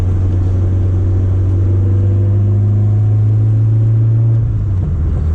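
A boosted Toyota AE86 engine drones loud and close in first gear, holding a steady high buzzing pitch near the rev limiter before dropping off near the end, with no talk.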